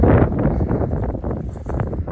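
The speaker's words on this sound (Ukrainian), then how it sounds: "Дуже сильний вітер, може бути не чути." Gusty wind buffets the microphone in a valley near a pasture, with loud, low rumbling that surges and dips briefly.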